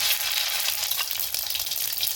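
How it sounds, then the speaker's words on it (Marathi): Mustard seeds sputter in hot oil in a kadhai, a dense, close, bright crackle and hiss that keeps up steadily without any voices. "कढईमध्ये तेल टाकलेले, तेल गरम झालेले, मोहरी टाकायला होता 1 चमचा"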